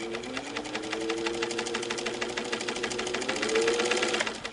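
A Singer Model 15 sewing machine runs at half speed before restoration, its needle clattering in a steady, even rhythm with a whirring motor hum, close and continuous, growing slightly louder near the end.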